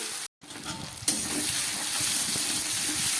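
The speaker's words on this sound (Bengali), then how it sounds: "আদা আর কাঁচা লঙ্কা দিয়ে কষিয়ে নিলাম" Chopped ginger and green chilli fry and sizzle in hot oil in a home kitchen pan. After a brief gap, a steady, close hiss continues with faint stirring scrapes.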